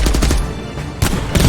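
Gunfire in a Korean action film scene, loud and close, with a burst of sharp shots at the start and a second burst near the end, filling the whole clip without any talk.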